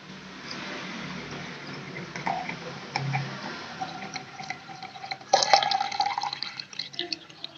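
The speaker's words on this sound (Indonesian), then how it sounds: "kita masukkan teh tadi dengan menggunakan saringan ke dalam gelas yang satunya." Tea is poured through a strainer into a glass, giving a soft, continuous trickle with light clinks and drips as liquid fills the glass.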